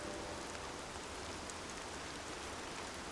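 Steady, dense rainfall in the video game Horizon Zero Dawn, a constant hiss of drops at even loudness throughout with no other sounds and no talking.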